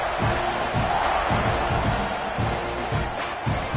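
Dense roar of a college football stadium crowd cheering during a kickoff, broad and steady throughout with rhythmic surges, loud and continuous without distinct individual voices.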